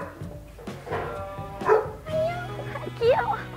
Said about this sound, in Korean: 어머 강아지다! 헐 강아지다!